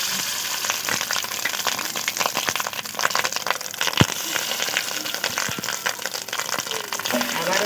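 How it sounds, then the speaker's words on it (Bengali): Fish roe fritters fry in oil with a loud, busy sizzle full of sharp crackles and spits, one especially strong pop near the middle, and the bubbling carries on evenly throughout. "আর একটু আমার রয়ে গেছে, ওই একই তেলে দিয়ে দেব।"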